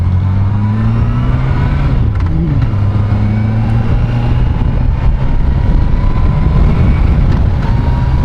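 A Yamaha FJR 1300 motorcycle is ridden in first gear, its engine droning loud and close with a steady tone that rises and dips slightly as the throttle shifts, mixed with wind rush throughout.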